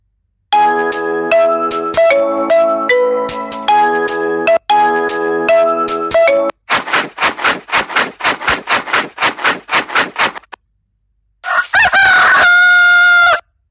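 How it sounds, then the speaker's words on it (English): Bright, loud rooster crow with clucking sounds from a children's educational learning game, preceded by chiming electronic jingle tones and a run of rapid rhythmic pulses. No one speaks. "Chicken."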